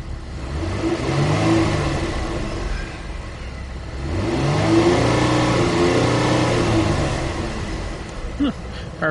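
A car engine revs steadily up to its RPM limiter and holds there, drops back, then climbs again in a second loud run, with faint talk around it.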